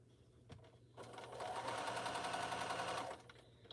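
A sewing machine runs in a steady continuous burst of rapid stitching for about two seconds during a quilting session, preceded and followed by a few quieter mechanical clicks and handling sounds.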